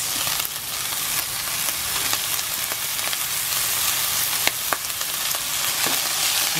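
Carrot and potato frying with ground pork in a pan, giving a steady, loud sizzle with scattered crackles and soft stirring scrapes throughout.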